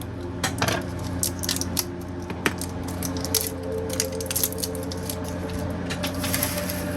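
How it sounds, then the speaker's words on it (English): Plastic wrap is peeled off AA batteries for a 1975 Remco Star Trek hand phaser toy, giving close, scattered crinkles and light clicks in irregular bursts over a quiet room, with no talking. "we'll do the same thing with the AA batteries. Take off the plastic wrap."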